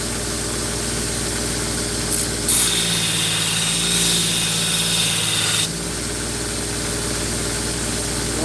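Belt grinder flattening the secondary bevel on a thick-spined factory knife against a flexing platen, a steady loud abrasive hiss with a low motor hum, starting abruptly mid-clip and cutting off about three seconds later.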